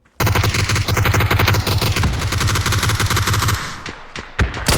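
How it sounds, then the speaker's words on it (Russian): Rapid automatic gunfire in PUBG, a dense sustained burst of shots for several seconds, then a few scattered single shots close and loud. "по мне стреляют, конечно"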